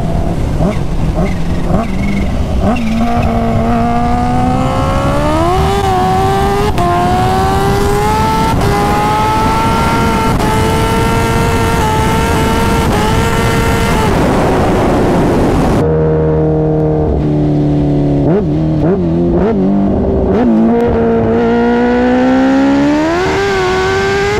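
A Kawasaki Ninja H2 motorcycle making about 300 wheel horsepower pulls hard at over 200 mph, its engine note climbing through repeated gear changes. The loud, close roar carries wind rush throughout, and a harsher, choppier stretch follows near the end.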